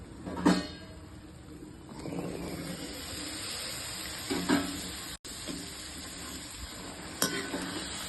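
Cauliflower drops into masala frying in oil for aloo gobi, a steady soft sizzle with a few louder clatters and scrapes as the pan is stirred, close up and fairly quiet, no voices.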